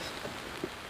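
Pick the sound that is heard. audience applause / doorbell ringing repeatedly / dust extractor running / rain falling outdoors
rain falling outdoors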